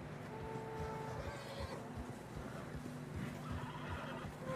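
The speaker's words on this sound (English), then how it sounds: "Horses are getting tired." A horse neighs and whinnies in the video game Red Dead Redemption 2 on a snowy trail, the call blending with steady hoof clip-clop and ambient game noise at moderate volume.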